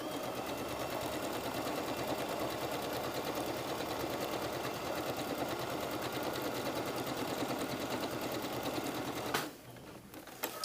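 A sewing machine stitches a blouse sleeve in a steady, fast, rhythmic whir that runs close and unbroken for most of the time, then stops abruptly near the end.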